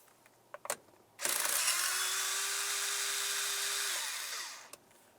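A power tool whirs steadily for about three seconds while backing out 5.5mm screws under the steering column of a 2003-2011 Mercury Grand Marquis, with a few clicks before it and a short tail as it winds down.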